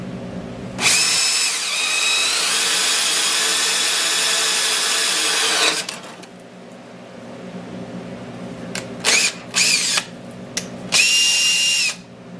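A power drill whines steadily for several seconds, then stops, followed by a few short bursts of drilling close by.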